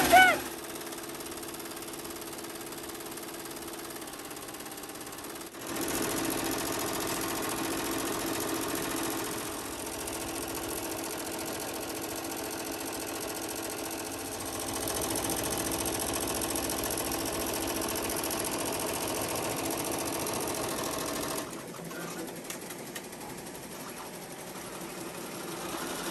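A Happy Japan HCU embroidery machine stitching a jacket at 1,050 stitches per minute gives off a loud, continuous mechanical whir and rattle that runs for the whole stretch, shifting in intensity a few times along the way.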